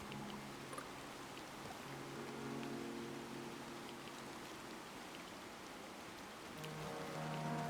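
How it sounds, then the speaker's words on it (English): Soft, steady rainfall in the video game Chernobylite hisses evenly with a faint low hum underneath, quiet and continuous throughout. "Turn up the sound because I love the rain."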